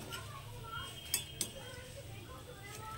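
Crispy hand-cut potato fries lifted out of a pan, a couple of sharp metallic clinks of utensil against the pan over a soft frying hiss, with a voice talking throughout.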